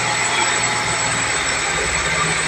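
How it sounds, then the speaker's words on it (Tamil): Small engine running steadily while its carburettor is adjusted, a dense continuous drone with a rising tone as the RPM climbs, loud and close with no talk over it. "இப்போ ரைஸ் ஆகுது பாருங்க, இன்ஜின் RPM ரைஸ் ஆகுது."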